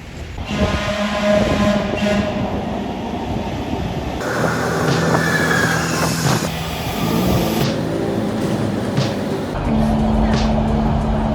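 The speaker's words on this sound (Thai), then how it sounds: "รอรถไฟ" Rumble and rattle of a Los Angeles Metro subway train in motion, with a steady low drone and shifting mechanical tones, voices faintly mixed in.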